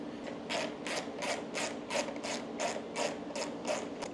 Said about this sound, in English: Take the three bolts that hold the headlight lamp in.